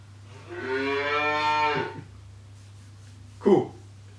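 A cow moos once in a long, drawn-out low call during an animal sound guessing game, followed by a brief separate sound near the end over a steady background hum.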